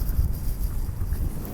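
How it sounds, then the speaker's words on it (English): Strong gusty wind buffeting the microphone outdoors beside a house and street, a continuous low roaring rumble with no other clear sounds. "Very windy out here today."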